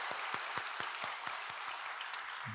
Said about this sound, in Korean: 우리 박수로 주님께 영광 올려드릴까요?